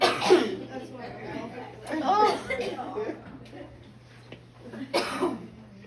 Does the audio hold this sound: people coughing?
yes